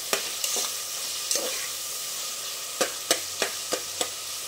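Onions sizzling steadily in a hot pan, with repeated spatula scrapes and stirring clicks over the constant frying hiss.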